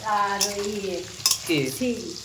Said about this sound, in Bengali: এটা কি রান্না করছো এটা লাউ শাক লাউ শাক চিংড়ি মাছ দিয়ে